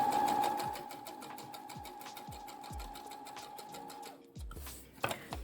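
A sewing machine runs a rolled hem with a hemming foot, a steady close mechanical whir with regular ticking needle strokes, then stopping with a few clicks and a handling knock near the end.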